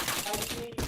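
A short, dense burst of rapid gunfire in the shooter game Point Blank, loud and close, with overlapping shots packed into under a second.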